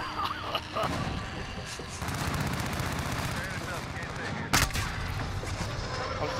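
Rapid automatic gunfire and a sharp loud blast in a Call of Duty match, with sustained bursts throughout under occasional player talk.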